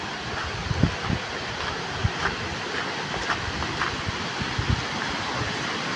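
Water pours and rushes continuously at a hidden waterfall in Keonjhar, a broad, steady roar heard close and alone, with small splashing bursts rising now and then.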